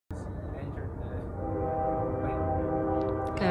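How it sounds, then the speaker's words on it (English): A loud train rumbles past a campground at night with a continuous heavy roar and a sustained horn-like tone rising over it, a voice briefly audible. "Can you guys hear the train?"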